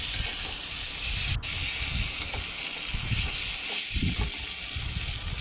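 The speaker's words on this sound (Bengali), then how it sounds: "এর মধ্যে ভেজে রাখা আলু পটল দিয়ে নাড়িয়ে চাড়িয়ে আবারও এগুলো ভালো করে কষিয়ে" Fried potato and pointed gourd being sautéed in spice paste, a loud continuous hiss and sizzle with low scraping thumps of stirring recurring every second or so, close up with no voices.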